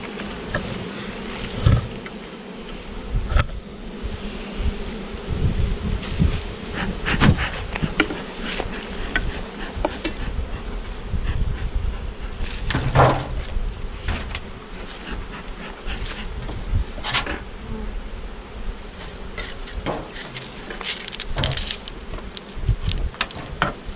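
Honeybees buzz steadily around an open hive with no top cover during fall hive inspection and honey collection, a close, continuous drone with occasional louder passes and faint handling knocks.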